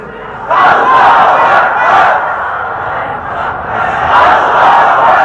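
A large crowd at a Bangladeshi Islamic sermon gathering roars a takbir chant in response, a loud sustained mass of voices swelling twice with a brief dip between.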